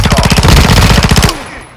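Loud, close automatic gunfire from enemies in a video game, a steady rapid stream of shots that cuts off abruptly, leaving a quiet tail.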